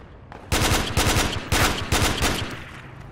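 Rapid machine gun bursts in a Project Reality battle, loud and close, firing in three or four sharp volleys with short gaps and no voices.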